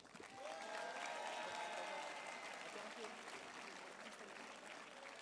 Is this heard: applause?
yes